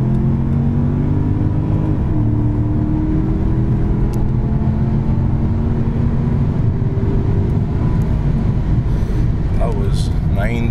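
A 2009 Mercedes-Benz S550 accelerating hard, its engine note rising steadily as a loud, continuous cabin drone and road rumble build over several seconds.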